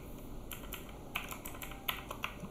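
Keys clacking on a computer keyboard during coding work, a quiet run of scattered taps with a few sharper clicks, fairly close and with no voice over it.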